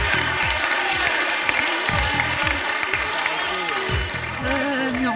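Studio audience applauding a contestant on a French television game show, a steady wash of clapping throughout with a voice talking over it.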